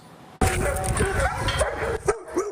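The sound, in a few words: rescue dog barking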